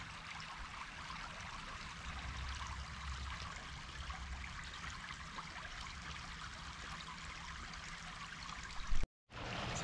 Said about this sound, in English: So here's the little creek going through the park, Belfair State Park.